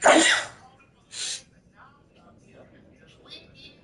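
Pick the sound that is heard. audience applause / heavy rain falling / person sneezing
person sneezing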